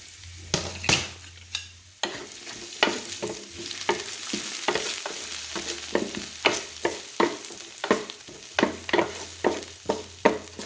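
Chopped red onion frying in canola oil, a continuous close sizzle broken by repeated sharp scrapes and knocks of a utensil stirring the pan at an uneven rhythm.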